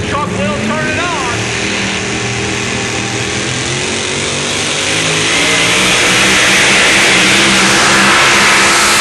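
A pulling truck's fuel-injected engine of about 650 cubic inches roars at a Jackson, Tennessee truck pull, revving up and building to a sustained loud, close howl.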